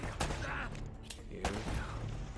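Gunfire in the video game Uncharted 1, with sharp shots popping at intervals against a busy game background while a player talks over it.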